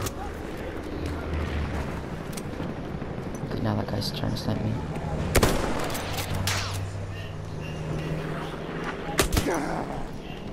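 Gunfire and distant explosions in the Battlefield 1 open beta, scattered shots and rumbling blasts spread through the scene, with people talking over the battle.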